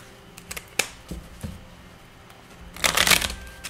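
Tarot cards being shuffled by hand, a few sharp scattered flicks early on, then a louder dense riffling burst near the end, close and clear with no talk over it.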